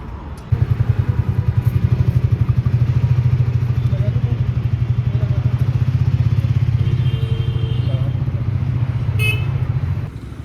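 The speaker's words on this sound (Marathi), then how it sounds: "चलो गाइस, फाइनली टेस्ट राइड के लिए गाड़ी मिल गई." A Triumph T4 motorcycle on a test ride, its engine droning steadily and close for about ten seconds with a regular low pulsing, some road noise and a brief honk-like tone near the end.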